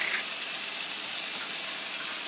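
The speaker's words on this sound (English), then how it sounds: "The garlic is sizzling a little bit." Garlic sizzles gently in a hot pan for a chicken tikka masala, a steady, soft hiss of frying that runs evenly throughout with no talking.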